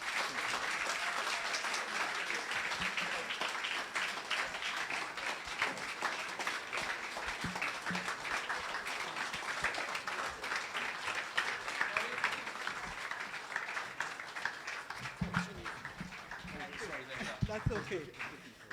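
An audience at a Caribbean prime ministers' conference applauding after a speech, a dense sustained clapping that stays loud throughout, with a few voices faintly underneath.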